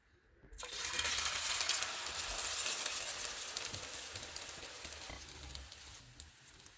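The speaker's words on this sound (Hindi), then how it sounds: "ऑयल गर्म हो गया, इसमें अंडे वाला मिक्सचर डालेंगे।" Egg and potato omelette mixture hits hot oil, bursting into a sudden bright sizzle that holds steady and close, then slowly eases with a few small pops and crackles.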